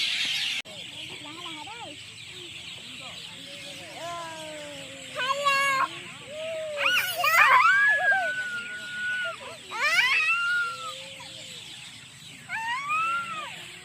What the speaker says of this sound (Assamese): ইমান ধুনীয়াকৈ চৰাই মাতি আছে বিভিন্ন ধৰণৰ চৰাই মাত শুনিবলৈ পাব আপোনালোকে